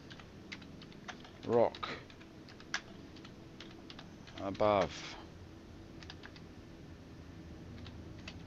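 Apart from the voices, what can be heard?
typing on a computer keyboard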